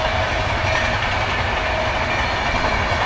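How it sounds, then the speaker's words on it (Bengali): A train runs past near a roadside stop in Odisha on the line toward Puri, giving a loud, steady rumble with continuous wheel clatter that fills the whole moment, with no voices. "আর এই পিছনে দেখো ট্রেন যাচ্ছে।"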